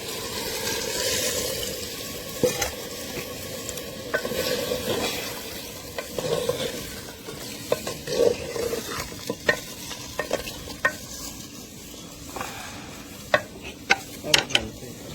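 Mutton sizzles in a pot while a spoon stirs it, with scraping and sharp clicks of metal against the pot growing more frequent toward the end.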